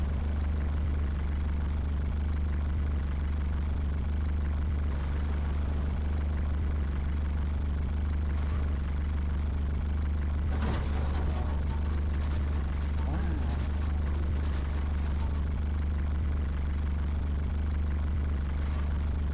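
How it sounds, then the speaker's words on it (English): Low, steady engine and exhaust rumble from a car in the Car Mechanic Simulator 2021 video game, droning continuously throughout with a brief clatter partway through, without talk over it. "Ooh, that exhaust sounds not great."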